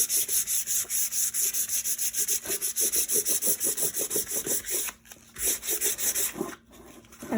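Sanding over cold wax and pastel medium on an art panel, a steady run of close, rhythmic back-and-forth rubbing strokes that pause briefly twice before resuming.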